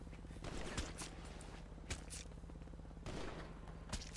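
Video game gunfire sounds as repeated bursts of rapid shots, a few sharper cracks standing out above a constant busy game background.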